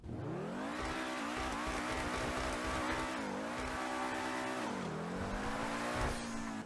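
The Ubermacht SC1 car in the video game GTA Online revs hard, its engine pitch rising and dipping through gear changes, with tire squeal and skidding over a steady loud drone.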